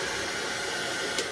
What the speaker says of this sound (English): I'm blow drying it on hot.